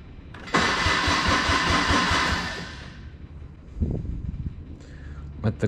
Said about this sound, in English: This is a diesel Kubota.